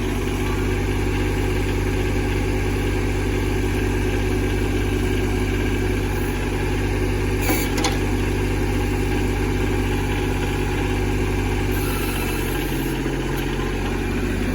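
A Kubota tractor engine idles steadily and loudly close by for the whole stretch, with a low constant drone and no voices.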